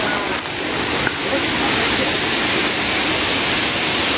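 Steady broadband roar of Sarugudu Waterfalls, heard from a viewpoint above, continuous and fairly loud throughout with no break in the rush of water.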